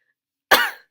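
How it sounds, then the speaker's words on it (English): A character in the video game Cinderella Phenomenon gives a single short cough, one sharp close burst after near silence that fades quickly. "Rod coughs, his own cheeks flushed."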